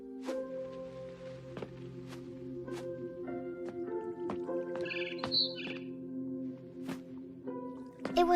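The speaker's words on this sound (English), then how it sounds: "Then I heard chirping outside my window." A barn swallow chirps outside a window in the game What Remains of Edith Finch, a few short, bright chirps arriving in a cluster midway over a soft sustained musical backdrop punctuated by faint drip-like ticks.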